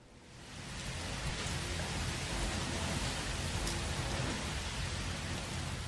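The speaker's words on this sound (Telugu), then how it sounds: "భారీ ఈదురుగాలులతో వాన కురిసింది" Heavy rain driven by strong gusty winds, a dense, steady roar of downpour that swells in during the first second and then holds loud and continuous throughout.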